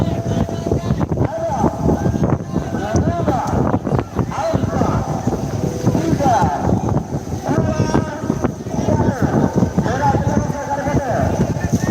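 Strong wind buffets the microphone at an outdoor kerapan bull-race final in Ketapang, a constant rough rumble throughout. People talk over it the whole time.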